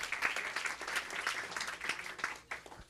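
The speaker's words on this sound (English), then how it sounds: "let's give a round of applause to our Parks students" Audience at a school board meeting claps for students, with close, fairly loud and steady applause throughout and a few distinct individual claps standing out.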